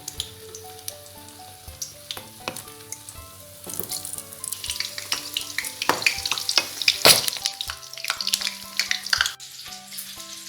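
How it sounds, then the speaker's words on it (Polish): Steady crackling sizzle of chicken frying in hot oil, growing busier midway, with bright pops and spatters over a background of music tones. "Gotowego kurczaka smażymy na rozgrzanym oleju"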